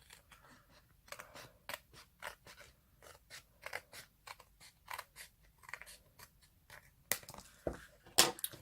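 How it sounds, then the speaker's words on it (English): Scissors trim excess paper from a covered travellers notebook, giving a run of soft, regular snipping cuts close by and quiet, ending with a few sharper louder snips. "I'll come in with my scissors and I'll just trim this excess off"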